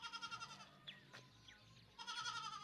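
Goat bleating close by, with two long wavering bleats at the start and end and a brief break between them, heard alone without talk.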